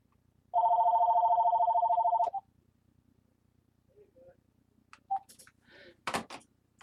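New office phone system rings once, a steady electronic tone lasting about two seconds in a quiet room, followed by faint handling clicks and knocks.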